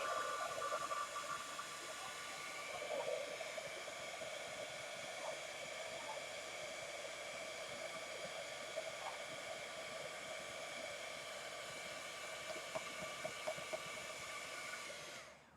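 A heat tool for melting embossing powder blows a steady, loud hissing roar close by, running continuously for about fifteen seconds before cutting off.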